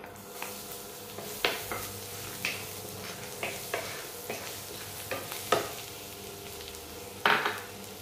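Finely chopped garlic sizzles in hot butter in a pan, a soft continuous frying hiss punctuated by regular clicks and scrapes of a utensil stirring against the pan.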